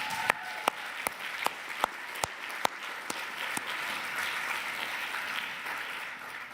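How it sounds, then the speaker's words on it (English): Scattered applause from a conference audience in a large hall, a handful of distinct sharp claps at first, then a soft, fairly distant wash of clapping that holds steady to the end. "A round of applause at the back there."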